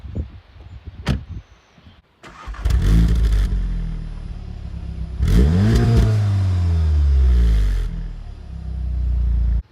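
A manual VW Golf R engine starting: a click and a door-like thunk, then the starter catches into a loud rev that settles, followed by a second rising rev and a steady idle, heard from inside the cabin.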